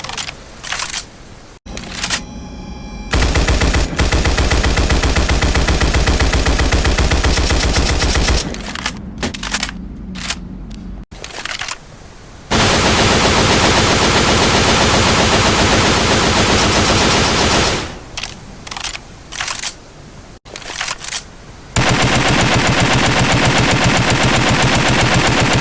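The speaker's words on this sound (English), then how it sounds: "Reloading." Weapon reloading and gunfire in the video game Left 4 Dead 2, with long loud stretches of continuous rapid fire broken by short gaps of clicking and mechanical reload sounds, all close and harsh.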